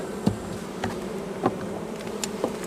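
A honeybee colony at its hive, the family that cast the first swarm, fills the scene with a continuous close buzz, and individual bees whizz past now and then as brief louder passes over the steady hum, with no voices.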